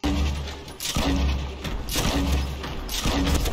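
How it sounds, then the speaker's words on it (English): Explosions go off in Fortnite Battle Royale during a Knockout Shuffle match: a run of loud, booming blasts about once a second, each with a sharp burst and a rumbling tail. "This is all explosions"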